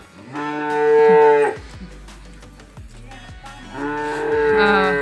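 A cow moos twice, long low calls close by, with a quieter stretch of shuffling and rustling between them.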